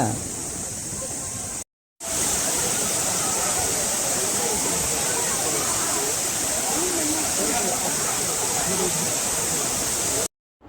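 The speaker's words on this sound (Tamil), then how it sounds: "அருவி சத்தம் கேட்குதா" A loud, constant roar of Agasthiyar waterfall, dense and unbroken apart from two brief dropouts.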